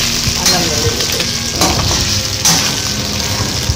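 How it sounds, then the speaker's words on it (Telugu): Ginger garlic paste sizzles steadily in hot oil as it is stirred and mixed, with a dense, close frying hiss and a few scraping stir sounds rising over it. "అల్లం వెల్లుల్లి పేస్ట్ వేసుకున్నాం కదా, మంచిగా ఆయిల్లో అన్నింటికి మిక్స్ అయ్యేలాగా మనం కలుపుకోవాలి."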